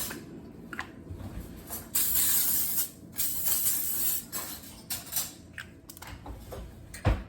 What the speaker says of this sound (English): I'm going to be spraying these pans with this cooking spray.